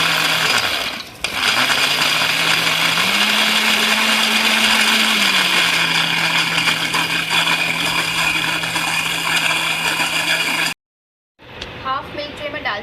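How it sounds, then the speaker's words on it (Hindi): A kitchen blender whirs loudly and continuously while blending milk for a banana milkshake, its motor pitch dipping briefly at the start and rising midway before cutting off abruptly, followed by quiet clatter. "मैं इसमें आधा पहले डाल के इसको ब्लेंड करूँगी"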